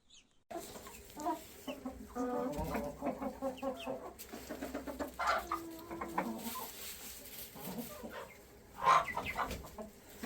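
Crested chickens cluck repeatedly at close range in a small coop where they are kept apart, the busy flock calls overlapping with one louder squawk near the end.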